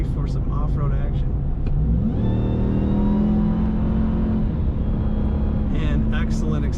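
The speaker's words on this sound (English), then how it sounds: "And excellent acceleration" A 2022 RAM 1500 TRX truck revs and accelerates hard, its engine note climbing and holding loud and close for a few seconds, with voices faintly in the background.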